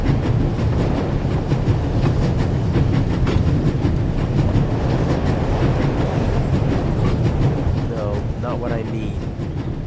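A moving train in the video game The Raven rattles and clacks steadily, rocking along with a constant low rumble and rhythmic metallic clatter while someone speaks over it.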